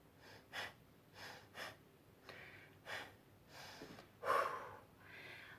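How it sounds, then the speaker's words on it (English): Rapid forceful yoga breathing, kapalabhati breath of fire, as sharp nasal exhalations come in a steady series of bursts about every half second, close and fairly quiet, with one stronger puff near the end. "Starting the kapalabhati breath early."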